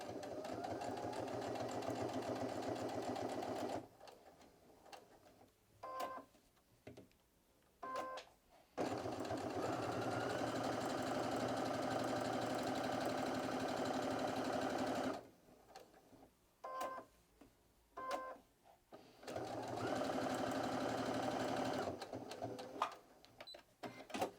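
A sewing machine stitches a pocket onto quilted fabric with the needle at position 7.0, close to the edge, running in steady continuous bursts broken by short pauses and light handling clicks.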